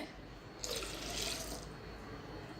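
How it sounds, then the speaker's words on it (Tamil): RO water is poured into a homemade dishwashing liquid mixture, making a quiet splash that lasts about a second over a faint background hum. "நல்லா கலந்து ஊற்றிக்கலாம்."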